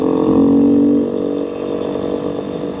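Beta 390 Race dirt bike on a night woods ride on gravel, its engine droning loudly and steadily, easing slightly in pitch and volume after the first second.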